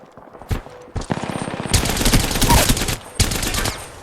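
Havoc and R99 guns firing in Apex Legends, short sharp bursts of rapid automatic gunfire, first a few quick single shots then long dense loud volleys with a brief pause between.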